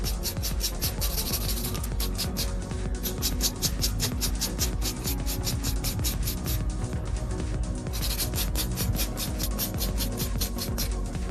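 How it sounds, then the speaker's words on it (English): Rapid rhythmic filing strokes on a sculpted acrylic stiletto nail as the inside is beveled, a steady close rasping scrape repeating in quick bursts with brief pauses, no talking. "So now I'm beveling out the inside."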